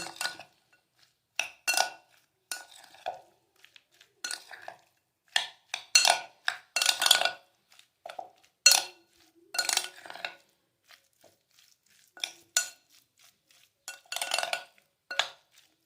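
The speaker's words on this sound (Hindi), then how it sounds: "तमाम चीज़ों को अच्छी तरह से मिक्स कर लेंगे" A spoon stirs tandoori masala and ginger-garlic paste into a marinade in a bowl, giving off bursts of clinking and scraping against the bowl with short pauses between them. No one speaks.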